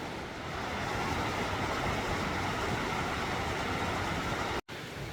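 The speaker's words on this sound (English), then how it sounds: "There's some little waterfalls." Small waterfalls beside a wooded hiking trail near Hemlock Falls, Chattanooga, giving a steady broadband rush of falling water, close and constant, with a brief dropout near the end.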